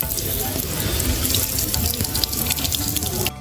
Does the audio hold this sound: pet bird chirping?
no